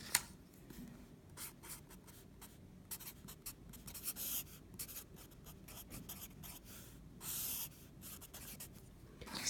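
Pen or pencil scratching out the quadratic formula on paper, faint and close, in short irregular bursts of strokes separated by brief pauses.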